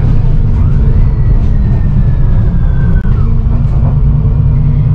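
Bus engine rumbling while driving in Malta, a steady loud low drone heard from inside the cabin for several seconds, with faint traffic noise and no talk.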